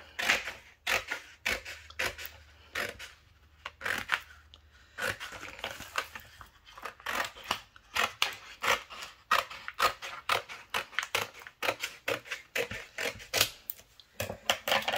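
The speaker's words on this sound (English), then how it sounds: "I'm going to trim this off as well." Scissors trim craft material for fall home décor pieces, giving close, quiet, irregular snipping clicks and rustles in quick bursts with short pauses between.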